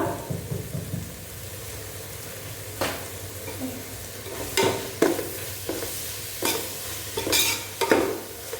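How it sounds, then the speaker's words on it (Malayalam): Biryani masala is stirred in a cooking pot, a low simmering sizzle punctuated by several loud scraping and clanking strokes of the spoon against the pot, irregular and close. "നമുക്കിത് നന്നായിട്ടൊന്ന് ഇളക്കി കൊടുക്കണം."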